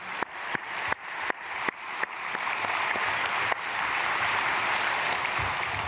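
A church congregation at an early-morning prayer service applauds to bless a family: a few sharp separate claps quickly swell into steady, full applause that fills the room and holds at a moderate level.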